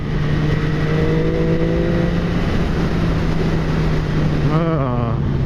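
A 2015 MV Agusta F3 800 motorcycle engine hums steadily under loud wind and road noise on the ride, then briefly blips its revs near the end.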